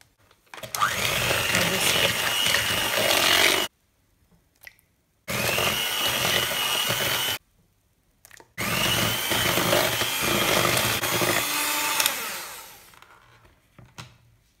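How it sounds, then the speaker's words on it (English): Eggs being whisked into creamed margarine and sugar for cake rusk batter, likely with an electric mixer: three loud, close bursts of steady motorized whirring separated by short pauses, the last one trailing off. "You may now add in the eggs one at a time and whisk as you go along."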